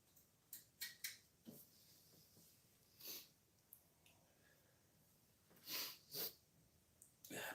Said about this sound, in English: Yeah, both sniffling.